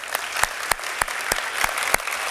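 Audience at a winter sports awards ceremony clapping for a coach, a broad wash of applause with sharp individual claps standing out at a steady pace, fairly close, with no talking.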